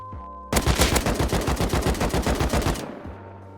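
Rapid automatic gunfire from a weapon in the video game Rust, a steady burst of about twenty evenly spaced loud shots lasting over two seconds, followed by a fading tail and a low hum.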